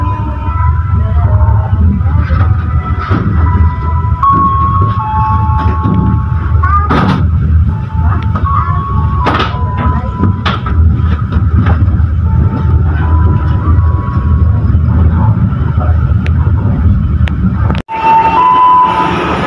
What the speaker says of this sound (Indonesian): kereta api Pasundan Lebaran tujuan akhir stasiun Kiara Condong kembali diberangkatkan dari stasiun Awi Pari